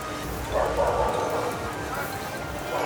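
A pack of about ten dogs on a seaside beach, barking and scuffling together at some distance, a steady noisy scramble of yelps and barks over outdoor background noise.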